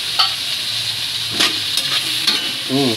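Pineapple chunks stirred into a hot frying pan for a sweet and sour milkfish dish, with a steady close sizzle and a few scraping stirs, and a brief voice at the end.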